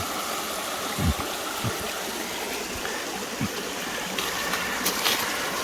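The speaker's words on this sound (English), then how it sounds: "we're down here on this creek" Creek water flows steadily over a rocky streambed, a continuous close broadband rush with a few soft splashes and knocks, with no talking.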